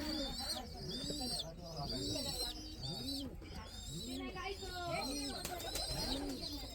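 White pigeons coo by their water dish in repeated rising-and-falling calls about once a second, close and clear, with another voice talking over them.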